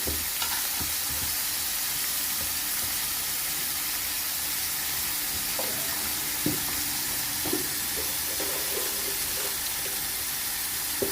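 Bottle gourd curry being stirred in a pan after salt and turmeric go in, with a steady close sizzle of frying and repeated scraping strokes of the spoon, no talking.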